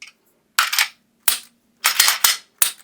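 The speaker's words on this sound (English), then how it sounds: "You just put the slide back on, lock it back, and flips back on." Slide of a Smith & Wesson M&P 2.0 10mm pistol being fitted back on and locked, heard as five or six sharp, close metallic clicks and clacks separated by short silences.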